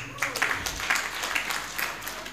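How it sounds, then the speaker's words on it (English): Modest, scattered clapping from an audience at a convocation's annual general meeting, quiet and somewhat distant with irregular individual claps and faint room noise, no voices on top. "Ladies and gentlemen, a round of applause."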